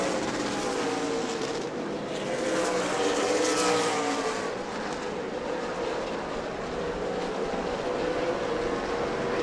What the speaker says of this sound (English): As I say that, May goes flashing by around the outside in turn 1